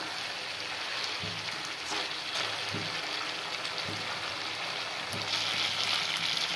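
Chicken masala sizzles and fries in oil in a pan, a soft, steady crackling hiss broken by a few faint knocks from stirring, with no one speaking.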